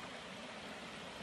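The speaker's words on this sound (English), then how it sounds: "I'm next to a waterfall" Waterfall at night, heard as a steady, even rush of falling water, faint and continuous with no breaks or voices.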